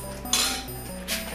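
Cooking pots clinking together in a kitchen, two brief metallic clatters about a second apart over a low steady hum, close and moderately loud.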